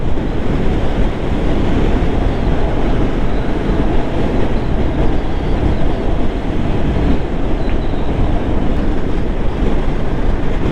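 A Yamaha R7 sport motorcycle cruises in sixth gear at about 60 mph on a motorway, producing a continuous, loud roar of wind rush and engine noise with no speech.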